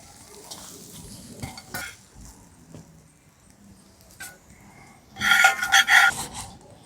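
Puffed rice sweet mixture being stirred with flour in a pot: intermittent scraping and rubbing strokes, soft at first, then a louder burst of rasping stirring near the end, with no talking.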